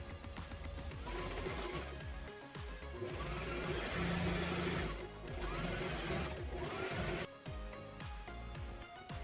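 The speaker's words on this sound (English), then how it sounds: "We're going to take it back to the sewing machine and we're going to sew that hole" A sewing machine runs in steady bursts of rapid mechanical stitching, pausing briefly between runs, close and loud with no talking.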